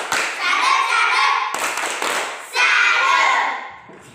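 Schoolchildren in an Indonesian classroom teaching session performing a rhythmic chanted clapping routine, with bursts of loud hand claps and voices chanting together in two close groups.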